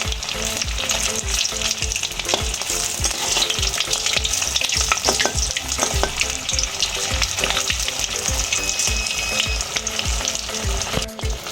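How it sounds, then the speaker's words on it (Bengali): Breaded egg devils fry in hot refined oil in a wok, making a loud, close, continuous sizzle with bubbling crackles and occasional light clinks of a utensil, and no talking. "কড়াইতে আমি রিফাইন তেল দিচ্ছি, তেল গরম হয়ে গেছে। এবার ডিমের ডেভিলগুলো আমি ছেড়ে দিচ্ছি"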